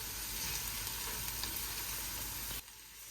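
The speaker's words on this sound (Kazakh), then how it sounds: "осы жуамыздың үстіне енді жаңағы сарымсағымызды қосып қуырып аламыз" Chopped onion and garlic fry in a pan with a steady, soft hiss of oil that drops away abruptly near the end, leaving a quieter sizzle.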